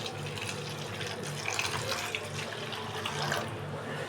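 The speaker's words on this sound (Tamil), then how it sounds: "இதில் ஒரு கால் லிட்டர் தண்ணியை ஊற்றிக்கலாம்" A quarter litre of water is poured into a vessel while making chutney in a home kitchen, a steady close gushing pour lasting several seconds with no talk over it.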